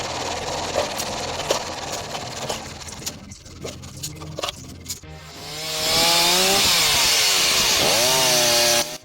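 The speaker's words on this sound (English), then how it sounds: "A chainsaw assisted by a safety bar like this is a real game changer." A chainsaw fitted with a safety bar cuts through firewood logs. Muffled rumbling and scattered knocks come first, then the saw roars in loud and close, its revving pitch wavering and dipping as the chain bites into the wood.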